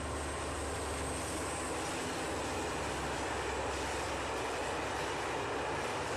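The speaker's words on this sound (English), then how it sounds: "Maglev." A smooth, loud rushing roar of a fast maglev train passing, steady broadband hiss without clear wheel clatter.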